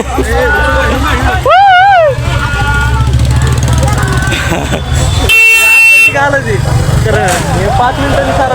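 Busy road traffic jam during a trip, heard from inside a Tata AC vehicle: a steady engine and road rumble with dense crowd chatter, interrupted by loud, sustained horn blasts around the middle and near the end.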